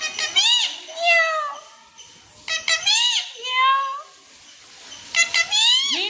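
A parrot mimicking a cat, giving several drawn-out, wavering meow-like calls in short bursts, close and clear.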